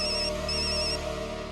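A telephone rings with an incoming call in a home, a steady electronic ringtone with repeating tonal bursts, moderately quiet and heard alone without talk.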